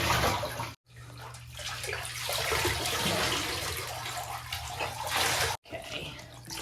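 Water pours steadily into a bathtub while a Basenji dog is bathed, a loud continuous rushing close by that cuts out briefly twice before resuming.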